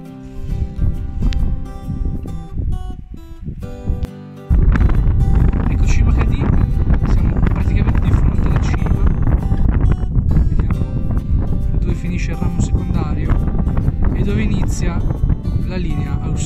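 Strong wind on a mountain ridge along World War I trenches near Cima Cadì, roaring and buffeting the microphone in a loud, continuous rush that intensifies sharply after a brief lull, with someone speaking at times beneath it.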